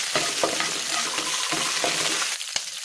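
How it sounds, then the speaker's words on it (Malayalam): Curry leaves, green chili, shallots and urad dal fry in hot oil with a dense, crackling sizzle broken by repeated spatula scrapes; it quiets briefly near the end after a sharp knock. "കറിവേപ്പിലയും പച്ചമുളകും ചെറിയ ഉള്ളിയും ഉഴുന്ന പരിപ്പും കൂടി ചേർത്ത് 1 മിനിറ്റ് നന്നായിട്ടൊന്ന് മൂപ്പിക്കാം"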